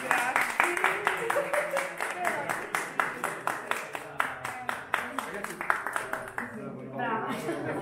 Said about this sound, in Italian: Un applauso.